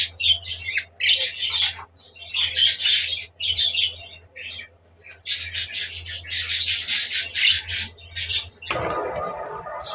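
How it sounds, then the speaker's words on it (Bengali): Pet budgerigars in a home cage squawk and chirp in rapid bursts, loud and close, with a steady low hum underneath and a sudden rustle near the end. "বাজরিগার পাখির"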